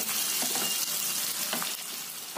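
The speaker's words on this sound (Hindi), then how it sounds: "अब मैं उसको इसमें डाल दूंगी। प्याज को गोल्डन ब्राउन होने तक पकाएंगे।" Chopped onions fry steadily in a hot pan, a dense continuous sizzle with a few faint stirring scrapes, close and fairly loud with no voices.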